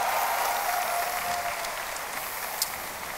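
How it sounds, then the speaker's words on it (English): A crowd at a OnePlus 6 launch event applauds itself, a brief dense burst of clapping that stays fairly even and eases slightly over a few seconds. "So give yourself a round of applause for being here."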